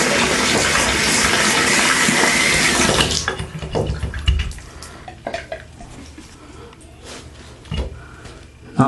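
Water pours strongly from a bathtub spout on a Symmons Temptrol valve for about three seconds, then cuts off, leaving faint drips and small knocks nearby.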